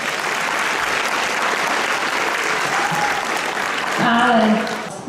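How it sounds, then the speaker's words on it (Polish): Applause from an audience at a school carol concert, steady clapping throughout that swells near the end while a voice briefly sounds over it. "Ale najgłośniejsze brawa dla naszych uczniów i dla przedszkolaków, i dla nauczycieli."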